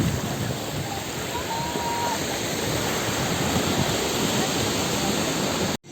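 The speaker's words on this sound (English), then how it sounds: "This is Arambol Beach" Sea waves at Arambol Beach make a continuous broadband roar of surf, loud and steady from start to finish, and the sound cuts off abruptly just before the end.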